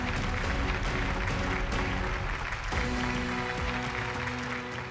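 Awards-show audience at a corporate ceremony applauding continuously under a steady bed of music, the clapping moderately loud throughout.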